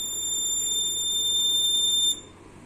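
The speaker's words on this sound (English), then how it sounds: "the buzzer will buzz and it will give an alert message to my phone" The buzzer of an Arduino-based air pollution monitor sounding a continuous high-pitched tone for about two seconds, loud and close, then cutting off abruptly.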